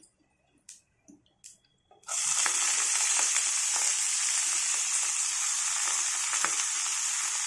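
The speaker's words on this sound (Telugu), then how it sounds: "ఇప్పుడు పొన్నగంటి కూర వేసుకోవాలి" Ponnaganti greens dropped into hot oil in a pan burst into a loud, continuous sizzle after a few faint knocks, with occasional stirring scrapes through the frying.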